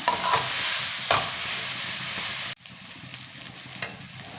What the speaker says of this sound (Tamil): நம்ம வேக வச்சு வச்சுருக்கோம் சேமியாயை இதில் தட்டிடலாம். நல்லா மிக்ஸ் பண்ணி விடணும்.